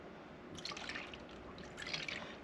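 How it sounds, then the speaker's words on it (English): Milk is poured into a bowl of beaten egg yolks for a breakfast casserole, giving a soft, close trickle and light splashing in two brief bursts over a quiet background. "we are going to add our milk"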